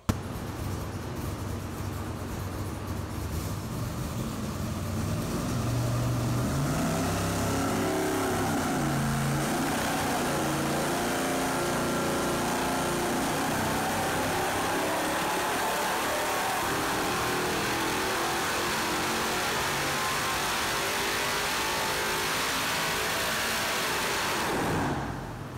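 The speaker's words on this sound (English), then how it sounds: "You can take a look at the Dyno Run, the NA Run" A 1000-horsepower twin-blower 6.0-liter V8, running naturally aspirated and carbureted, roars steadily on a dyno for about eighteen seconds, rising in pitch as it pulls, loud and close, then cutting off at the end.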